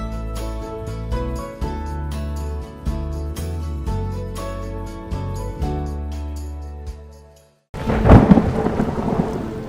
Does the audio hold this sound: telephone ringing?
no